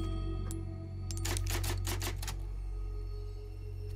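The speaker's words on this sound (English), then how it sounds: "Ah, we got the typewriter. So let's save the village part." Typewriter save point in the Resident Evil 4 remake, a quick burst of about eight sharp mechanical key clacks over a steady low game hum.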